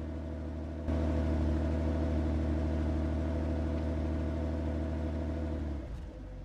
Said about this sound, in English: Once you start the disabled vehicle, run both cars for an additional 3 minutes before disconnecting the jumper cables.